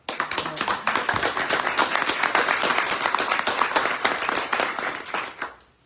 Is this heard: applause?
yes